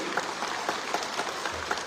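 A crowd claps at a political rally in Tripura. The applause is steady and moderately loud, with several sharper bursts rising out of it over a couple of seconds.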